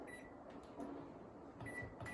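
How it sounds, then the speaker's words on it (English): A microwave oven runs with a low steady hum while melting chocolate in short intervals, faint and even, with a couple of soft high beeps and clicks. "keep putting it into the microwave at 30-second intervals until it is fully melted"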